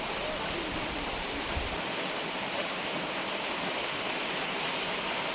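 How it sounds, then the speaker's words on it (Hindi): A tall waterfall near the Tiger's Nest monastery in Bhutan sends up a steady, dense roar of falling water that fills the whole span without letup, broad and loud. "बहुत ही ऊंचाई से ये पानी गिर रहा है और देखो कितनी ऊंचाई से गिर रहा है।"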